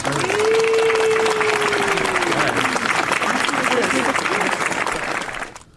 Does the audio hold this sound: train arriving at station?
no